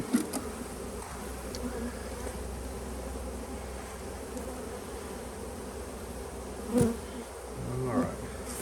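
Honey bees buzz steadily in a dense, close swarm at an apiary hive, a continuous drone with a few brief louder passes near the end.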